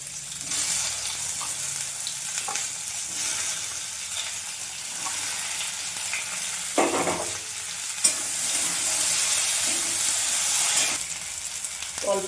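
Okra frying in oil in a pan makes a steady close sizzle and hiss, with brief stirring scrapes and clinks breaking through at intervals, no voices.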